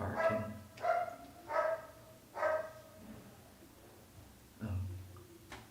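A dog barks in a short run of four sharp barks, then goes quiet and gives one more bark a moment later, moderately loud with light background noise.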